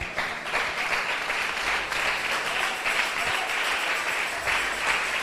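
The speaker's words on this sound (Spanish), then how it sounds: "Porque es para Cristo ese aplauso" A church congregation applauding loudly and steadily during a service, a dense wash of clapping from start to finish.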